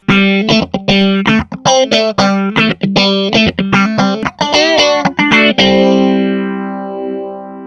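A loud overdriven electric guitar through a BOSS PX-1 plug-out effects unit plays a fast run of chopped, distorted notes, then lets a final chord ring out and swell into a fading sweep.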